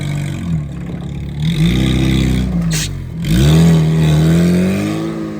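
An Opel Frontera SUV drives off-road, its engine revving up and down with rising and falling pitch as the tires work through wet ground, loud and close throughout.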